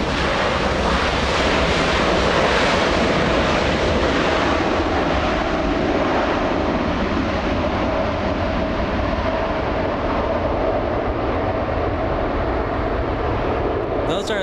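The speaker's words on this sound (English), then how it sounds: "Those are the Rolls-Royce engines," A Boeing 787 Dreamliner with Rolls-Royce Trent 1000 engines at Los Angeles International Airport gives a loud, sustained broadband jet roar that holds steady and fades slightly toward the end, with no voices.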